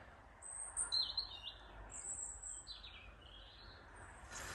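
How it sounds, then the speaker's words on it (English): Several birds chirp and trill in short, high phrases over a quiet, hissy outdoor background on an uphill path near a cottage, fairly faint and somewhat distant, with no voices. "birds are singing."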